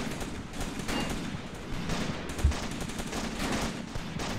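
Gunfire in the World War II tactics game Graviteam Tactics at Shilovo, 1942: a dense, steady crackle of distant rifle and machine-gun fire with one sharper, closer report near the middle, continuing without a break.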